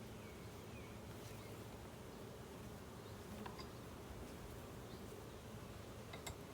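Honey bees buzz continuously during a June hive inspection, a dense, even drone close by with a few louder passes as single bees fly near, and no talking.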